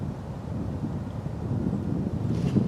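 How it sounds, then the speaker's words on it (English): Steady wind gusts outdoors buffet a microphone near a climbing treestand, giving a low continuous rumble that swells slightly toward the end, with no voices. "Wind decided to start to blow."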